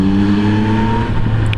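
Motorcycle engine riding on winter roads in Switzerland, a loud, steady near drone with strong low harmonics holding for most of the moment, then a roughening rumble and brief high noise toward the end.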